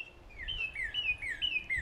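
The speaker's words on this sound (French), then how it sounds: "Et les oiseaux que vous entendez présentement, c'est les cardinaux." Northern cardinals sing outdoors in the morning, giving a series of clear, repeated down-slurred whistles in a steady rhythm. The song sounds faint and somewhat distant over quiet background noise.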